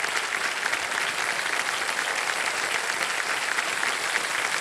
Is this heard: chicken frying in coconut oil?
no